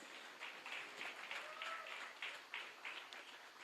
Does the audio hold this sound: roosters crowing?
no